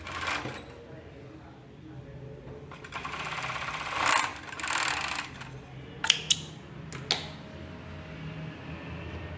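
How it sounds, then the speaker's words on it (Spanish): A sewing machine stitches the side seams of a girl's fabric panty in steady close bursts, with brief pauses and small clicks between runs while a voice talks over it. "Ahora volteamos hacia acá y vamos a coser los costados."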